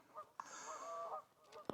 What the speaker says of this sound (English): Just sat here watching all the geese going along in a row.